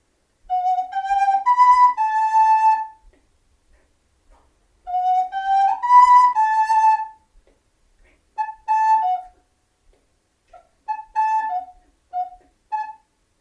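A recorder plays a simple, clear melody in short phrases separated by pauses, sounding close and alone.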